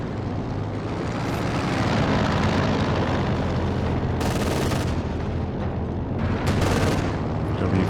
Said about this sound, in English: Flak base trying to shoot down this recon plane.